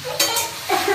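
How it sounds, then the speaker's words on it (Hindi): Onions frying in a pan for a village-style chicken curry, a close, steady sizzle with a couple of brief scraping stirs. "प्याज को थोड़ा बढ़िया से भूनने देते हैं"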